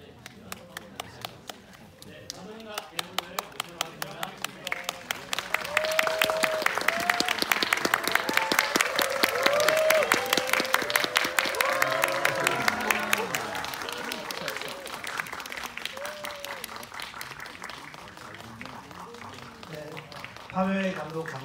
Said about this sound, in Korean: 마지막인 만큼 큰 박수로